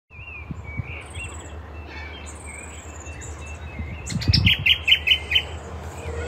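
A nesting bird chirps in short bursts beside a water supply, its calls growing into a quick, bright series near the end over steady low background rumble.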